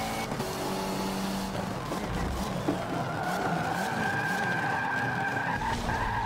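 In Forza Motorsport 7 played on a Logitech G920 wheel, a car drifts with sustained tire skid and squeal over a droning engine, continuous and fairly loud, with no speech.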